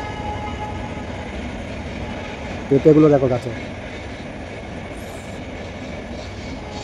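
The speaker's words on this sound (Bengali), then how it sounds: "আর এই যে ট্রেন যাচ্ছে" A train rolls past a rural village beside an areca nut orchard, a steady rumbling drone throughout heard from outdoors at a distance, with a person talking over it.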